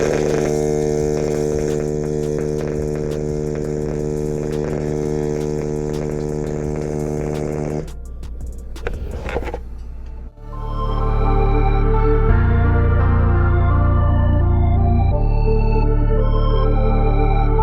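A Miller welder running pulse MIG lays a weld, giving a loud, steady electric buzz with a strong hum that briefly breaks off and sputters midway, then resumes in a deeper, continuous drone.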